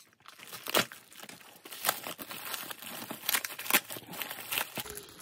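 Heavily taped cardboard package holding a Made in Japan Plarail toy train being opened up close, with repeated crinkling, crunching and tearing of tape and packaging in irregular bursts and no talk.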